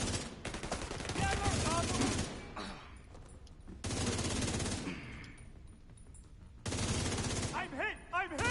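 Sustained bursts of automatic gunfire in the video game Division 2, three long loud volleys separated by quieter gaps.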